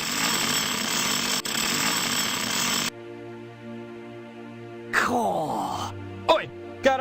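A harsh, continuous drill rattles loudly in the retro point-and-click game Simon the Sorcerer, then cuts off abruptly, leaving a hum followed by brief vocal sounds.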